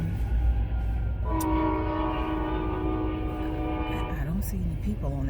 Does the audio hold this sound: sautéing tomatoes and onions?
no